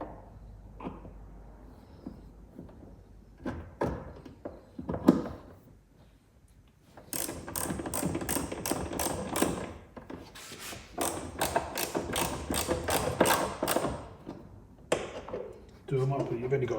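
Ratchet nipping up the rear light screws on a Vauxhall Corsa C, heard as bursts of rapid clicking pawl ticks between quieter fiddling and handling noises, close by.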